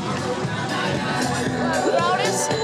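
A stadium crowd at a baseball game makes a steady, distant hubbub of mingled voices and chatter, with a nearby voice speaking over the background murmur.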